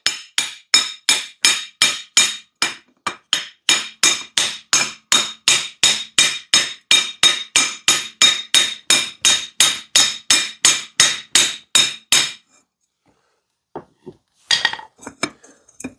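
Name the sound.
hammering a jack handle tube onto motorcycle frame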